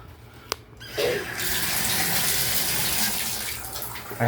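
Toilet flushing in a mobile home, a click and then a loud rush of water draining steadily close by, tailing off toward the end.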